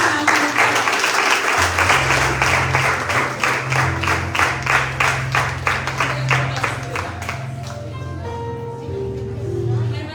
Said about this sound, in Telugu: చక్కగా చప్పట్లు కొట్టి